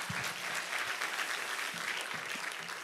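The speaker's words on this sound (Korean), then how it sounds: "자, 우리 한 번 더 박수해 주십시오" A church congregation at a Friday night worship service applauds together, a steady, dense wash of clapping sustained evenly from start to finish with no voices rising above it.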